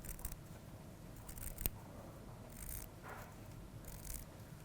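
Scissors snip through strips of old restoration stitching on a historic embroidered fabric, a few faint, crisp cuts spaced apart with one sharp click, close and quiet with no talking.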